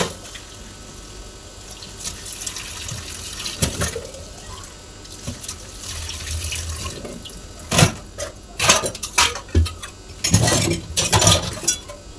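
Tap water runs into a sink as drinking water is collected indoors, a steady splashing stream with louder bursts and surges toward the end, close and with no talking over it.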